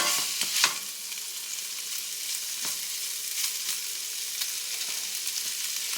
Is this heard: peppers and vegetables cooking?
yes